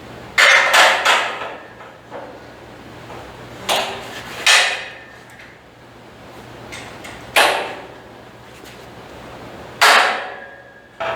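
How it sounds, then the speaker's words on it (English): A steel piece of a homemade trailer frame is clamped in place in a workshop: several sharp metallic clanks and ratcheting creaks at irregular intervals, each ringing briefly, with quiet gaps between them. "let me get this next piece clamped in place"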